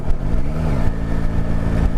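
A Yamaha Tracer 9 sport touring motorcycle's engine hums steadily while riding through the gears, with a brief rise and fall in pitch as revs change, under rushing wind.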